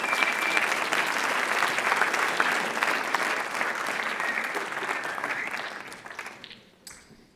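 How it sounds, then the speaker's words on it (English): Sustained applause from a high school audience welcoming two panel guests at a writers expo, a broad, even patter of many hands that tapers off into quiet at the close. "Please give them a big round of applause."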